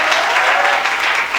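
An audience at a Holi Milan celebration bursts into loud, dense applause, a steady wash of clapping from many hands.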